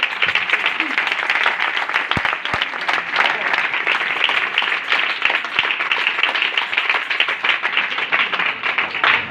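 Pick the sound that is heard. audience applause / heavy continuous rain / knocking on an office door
audience applause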